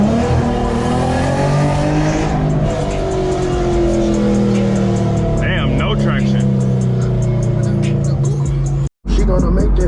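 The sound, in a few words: modified Infiniti G37 loud engine driving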